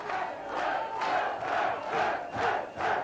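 Crowd at a 1983 New Zealand professional wrestling match roars in repeated surging waves of cheering and shouting for the wrestler Man Mountain, loud and continuous with rising swells about every half second to second.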